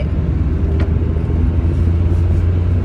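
An old car's engine rumbles low and loud throughout, a steady heavy drone with road noise as the car drives along, no voices heard.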